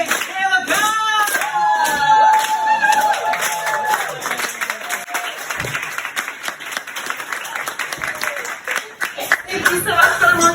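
An audience applauds to welcome a monologist onto a stage, with steady clapping and some cheering while a voice talks and other sounds play over it.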